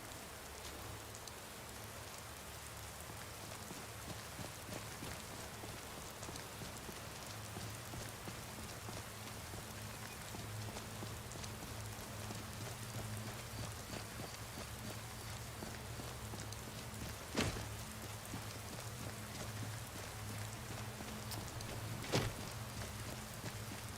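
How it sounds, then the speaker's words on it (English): Steady rain falls in Falkreath in the video game Skyrim, a continuous soft hiss with two brief sharper knocks partway through and no voices. "And yet again, it is raining in Falkreath."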